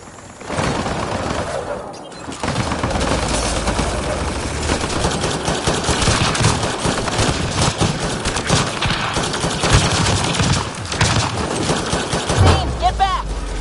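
Sustained automatic turret fire in a video game mission, rapid bursts of shots running almost continuously over a loud, busy mix of game effects.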